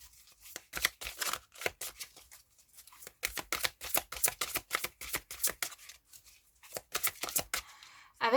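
Tarot cards drawn from a deck, giving repeated bursts of crisp papery flicks and slides in quick irregular clusters with brief pauses between them, close and fairly quiet, without talk.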